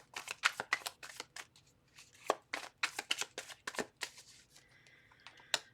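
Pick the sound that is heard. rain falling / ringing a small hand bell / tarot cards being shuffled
tarot cards being shuffled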